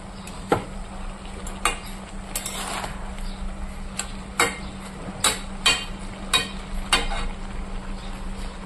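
Chopped cabbage stirred in a hot pan with a utensil: a steady low sizzle broken by a dozen or so sharp, irregular scraping clinks, close and without talk.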